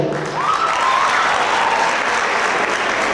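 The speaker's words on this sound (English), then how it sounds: "Let's have a round of applause" A high school audience bursts into a loud, sustained round of applause, steady dense clapping with crowd noise and a faint cheer running through it.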